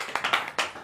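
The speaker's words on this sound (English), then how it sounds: "You sure should not be clapping." A handful of scattered claps from a stand-up comedy club audience, a few sharp separate hits rather than full applause, close and fairly quiet.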